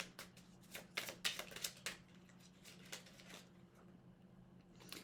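A deck of cards is riffled and shuffled up close in several quick bursts of crisp flutters and snaps. The riffles are followed by softer handling taps in a quiet room.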